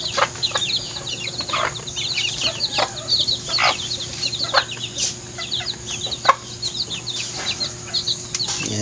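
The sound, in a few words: native chickens clucking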